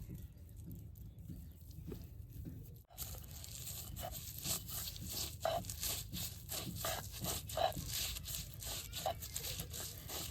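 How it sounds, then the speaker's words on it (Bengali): Fried garlic and onion with a little salt are ground into a paste on a grinding stone, giving steady scraping, crunching strokes that repeat in a rough rhythm at close range. "অল্প লবণ দেয়া সব কিছু বাইটে নেব।"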